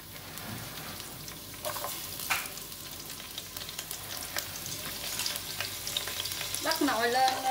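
Garlic stir-fries in hot oil in a pot, a steady crackling sizzle with scattered pops and the scrape of stirring, which gets louder toward the end.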